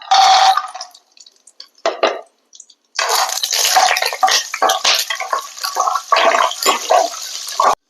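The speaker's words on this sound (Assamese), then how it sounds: "এতিয়া মই কাজুখিনি অলপ ফ্ৰাই কৰি ল'ম।" Cashews fry in hot mustard oil in a pan with bursts of crackling sizzle. A loud burst comes first, then a few short spurts, then steady sputtering frying noise.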